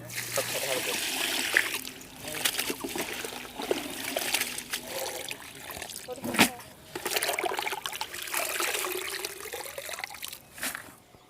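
Collected henna leaves are swished and rinsed in water, giving splashes and trickles that come and go, with a person talking over them.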